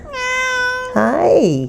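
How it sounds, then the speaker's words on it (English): A pet cat gives a long, clear meow up close, followed by a second, rising meow. A person says a brief greeting over the second meow. "That's my cat"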